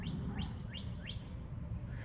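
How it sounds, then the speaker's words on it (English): Outdoors in a city, a bird repeats a quick rising chirp four times in an even rhythm, fairly clear above a constant low rumble of traffic and wind. "what's up with these birds, bro?"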